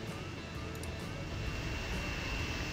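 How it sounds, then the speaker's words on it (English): A jet airplane in the video game Transport Fever gives a steady, low, continuous engine roar with a faint high whine, moderately quiet and unbroken throughout. "Oh, I already hear the sound of a jet."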